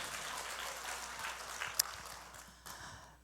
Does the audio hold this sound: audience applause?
yes